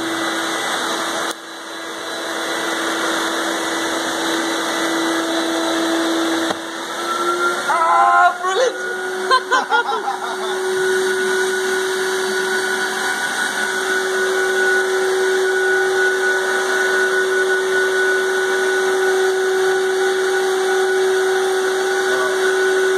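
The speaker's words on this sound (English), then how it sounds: "turn on the vacuum." A vacuum cleaner powering a DIY vacuum former starts up and keeps droning loudly and steadily, with brief clattering early on and voices only faintly audible.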